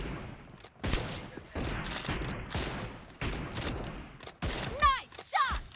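Gunfire in the PUBG Mobile battle game comes in several separate bursts of rapid shots, loud and close, with short pauses between volleys and a brief whistling sound near the end.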